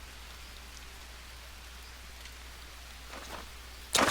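Rain falls in the jungle survival video game Green Hell, a steady soft hiss of rainfall on surfaces throughout, with a short sharp burst of noise near the end.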